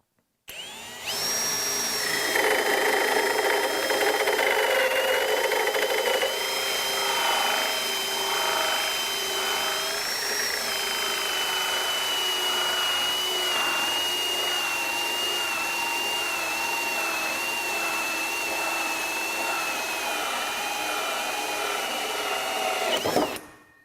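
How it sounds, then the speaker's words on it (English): A Milwaukee Gen 3 M18 Fuel hammer drill spins a Milwaukee Hole Dozer hole saw at high speed, cutting through material with a loud, sustained whine and grinding chatter that runs steadily for over twenty seconds before stopping abruptly. "this is the Milwaukee Gen 3 M18 fuel hammer drill that I'm using, and we're working in high speed"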